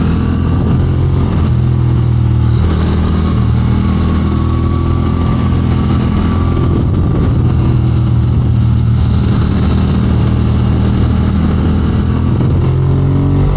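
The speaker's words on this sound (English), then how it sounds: "I hate going over these little rumbly strips on the side of the tire." Triumph Speed Twin motorcycle riding at speed, with a loud continuous engine drone and wind roar close by, the tone wavering slightly as the tires run over rumble strips at the roadside.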